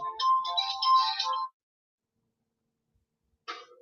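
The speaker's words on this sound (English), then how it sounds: "We have a phone call." A phone rings for an incoming call, with one electronic ringtone burst, then a pause and a shorter second burst, clear and close in an otherwise quiet room.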